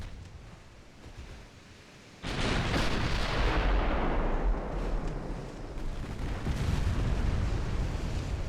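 Warship main guns fire in Ultimate Admiral Dreadnoughts, a sudden heavy boom that swells into a loud, sustained roar of rumbling blasts and crashing noise. It stays dense and forceful to the end with no speech.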